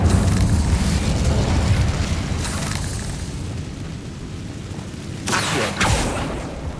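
The Incendio fire spell in Hogwarts Legacy erupts as a loud, sustained roaring blast that rumbles for several seconds, then flares again with a sharper burst near the end.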